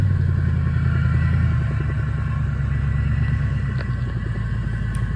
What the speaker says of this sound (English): I sure do like the nice sound of a V8 rumble that way.